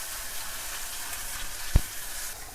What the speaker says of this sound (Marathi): सो आता हे वाटण आपण त्यात टाकून मस्तपैकी भाजून घेऊया.